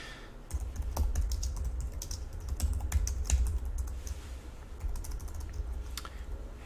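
Fingers type steadily on a computer keyboard, a close run of light, uneven key clicks over a low background hum.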